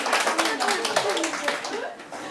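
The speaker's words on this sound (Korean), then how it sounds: "각 그 학년 연구부장 선생님들에게 박수." A room of teachers applauds the grade-level research heads at a school education talk. The short burst of scattered hand claps sits under a speaking voice that continues over it.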